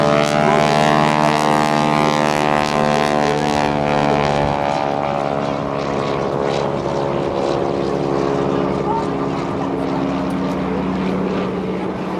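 A propeller airplane flies slowly at the edge of a stall during an airshow, its loud, steady droning engine and prop hum holding close and constant throughout.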